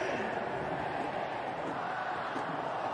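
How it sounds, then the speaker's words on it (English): A dense, continuous roar from a packed cricket stadium crowd in Ahmedabad during the IPL final between CSK and GT, loud and unbroken throughout. "To a glorious crowd here in Ahmedabad."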